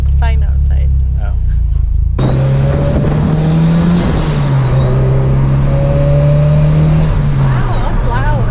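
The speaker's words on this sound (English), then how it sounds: "turbo is very loud. It's like squealing." A 550whp Mitsubishi Evo engine revs and accelerates with a rising, high-pitched turbo squeal sweeping up and down over rumble, while people talk nearby.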